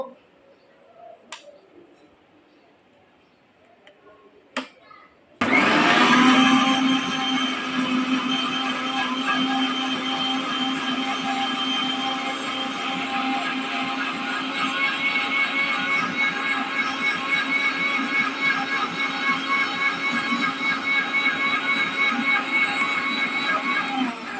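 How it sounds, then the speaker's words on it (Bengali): A kitchen blender grinds mint leaves, coriander leaves and green chili into a paste. After a few quiet seconds with small knocks, the motor starts abruptly and runs loud and steady to the end. "পুদিনা পাতা ধনিয়া পাতা আর গ্রিন চিলি মিক্সড করে নিলাম এখন এটা পেস্ট করব"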